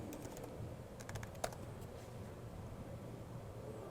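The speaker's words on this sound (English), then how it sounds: "So you just say /who and type in the name, Alex Wilbur" Quick clatter of keystrokes on a computer keyboard while a command is typed into Microsoft Teams, with soft close clicks over a quiet room.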